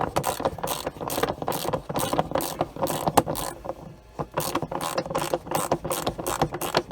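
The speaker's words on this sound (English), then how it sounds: "Grab your 3/4 inch socket, and if you remember from the first video, we are going to tighten it" Rapid ratchet clicking from a 3/4 inch socket tightening a bolt on a cartridge filter, loud and close, in repeated bursts with a short pause midway.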